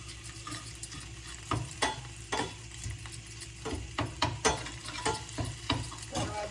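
Chopped ginger and garlic fry in a pan for vegetable soup, a soft sizzle broken by irregular scraping stirs of a utensil against the pan, with no talking.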